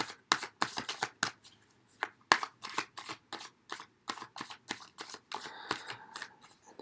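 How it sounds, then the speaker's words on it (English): Tarot cards shuffled by hand in a quiet setting, a steady run of crisp, papery riffles and flicks, some in quick bursts and some spaced apart, close to the microphone with no talking. "I'm going to shuffle the cards now"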